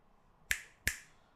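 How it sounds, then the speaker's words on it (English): Two crisp finger snaps, close and fairly loud, spaced about a third of a second apart over a quiet, still background with no talking. "The first time I snap my fingers like this"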